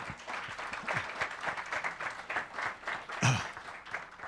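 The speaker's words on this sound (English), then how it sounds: "A round of applause for our panel here." A room applauds, many hands clapping steadily at moderate volume, with a brief louder thump near the end.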